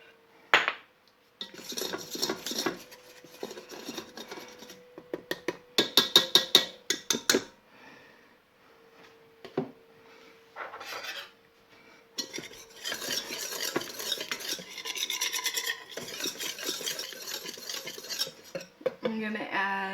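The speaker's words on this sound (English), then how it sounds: "And I'm going to make a roux." Flour being stirred into melted butter in a pan for a roux, with repeated scraping strokes and clinks of a utensil against the pan, loud and close in bursts with short pauses between.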